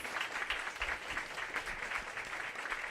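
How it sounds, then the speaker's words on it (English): Applause from an audience following a panel discussion on watersheds, a steady mid-level patter of many hands clapping with no clear break. "Please give a round of applause"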